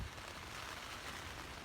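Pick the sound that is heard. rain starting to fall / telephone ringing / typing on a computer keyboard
rain starting to fall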